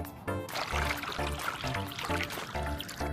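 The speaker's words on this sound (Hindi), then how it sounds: "तो अब मैं कैंगन को हटाऊंगा और साधारण पानी का इस्तेमाल करूंगा।" Ordinary water pouring steadily over a green tea bag, a close continuous splashing trickle with no talk.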